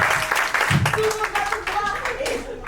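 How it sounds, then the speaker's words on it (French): Applause at a comedy show, a brief round of clapping from the crowd with voices talking over it, loud and close for a few seconds. "Applaudissez-la."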